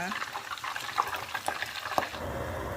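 Pure catfish pieces with no batter deep-fry in oil over medium heat, giving a steady soft sizzle and bubbling with small pops, fairly quiet throughout.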